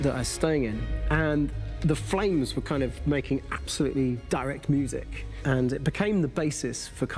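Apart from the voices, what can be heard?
No everyday noises stand out.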